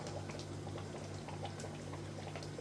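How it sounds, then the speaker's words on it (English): Ground cumin is stirred into a pot of cooking chili, giving a steady, close simmering and bubbling wash with faint scraping, unbroken throughout beneath a low hum. "Now we're going to add the last 3 tablespoons of cumin, ground cumin. We're going to stir that in."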